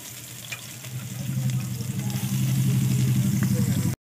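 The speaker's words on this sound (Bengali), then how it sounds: "একটু পেঁয়াজ ভেজে নেব" Onion goes into fish oil with cloves, cardamom, cinnamon and bay leaves, building into a loud, close sizzle with a pulsing low rumble of bubbling oil, and no talking.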